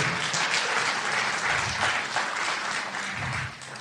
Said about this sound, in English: those of you mothers who are applauding